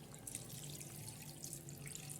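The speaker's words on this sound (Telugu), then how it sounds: "పోసే మొత్తం అది అలా వాటర్ పోసుకోవాలి" Water poured into mutton head curry in a pot, a steady soft splashing trickle running throughout, fairly quiet and alone without voices.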